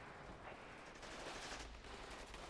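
Faint, distant bursts of gunfire from the Cold War real-time strategy game WARNO, with a continuous rattle like machine-gun fire and no talk.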